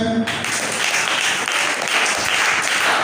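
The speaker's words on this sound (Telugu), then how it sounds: "Praise lord. చప్పట్లు కొట్టండి" A church congregation claps together in broad, steady applause that fills the space for about three seconds, loud and sustained with no break.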